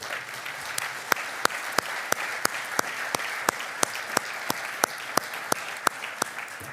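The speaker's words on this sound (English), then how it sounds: "Let's go ahead and give her a round of applause." Steady applause from an award ceremony audience, dense clapping throughout with a few sharper claps standing out at a regular pace.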